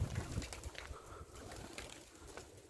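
Pigeons perched on rooftop pigeon towers in Egypt make faint, soft cooing calls against a quiet open-air background.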